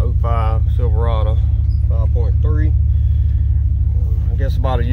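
A 2005 Chevrolet Silverado 5.3 with a catalytic converter delete, a Thrush Rattler muffler and a side-exit exhaust gives a steady, deep droning rumble throughout, heard from inside the cab under someone talking.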